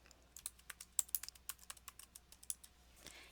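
Password entry on a computer keyboard: roughly a dozen and a half light, distinct key taps in an uneven rhythm, quiet and close, with no voices.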